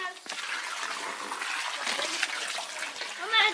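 Steady rushing water pours and splashes throughout as a Bestway swimming pool fills, with a brief squeaky sound near the end.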